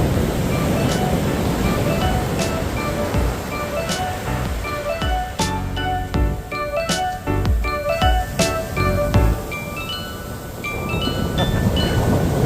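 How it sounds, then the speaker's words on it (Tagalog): Waves breaking on a beach as a couple walks along the water's edge, a steady broad roar of surf with repeated washes of water and scattered sharp clicks and knocks on top, close and loud throughout. "Nahahabol ang alon eh sa atin."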